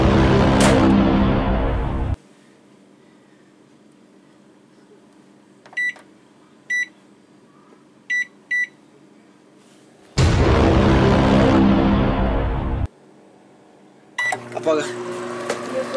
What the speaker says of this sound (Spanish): Y ahora vamos a meterla al microondas.